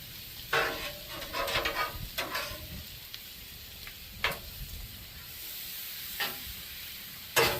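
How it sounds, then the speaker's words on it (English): Bacon and sausage sizzle on a Blackstone griddle for a Cajun stir fry. A constant close hiss is broken by a few sharp spatula scrapes and taps, with no voices. "I've been cooking bacon. I've been cooking sausage."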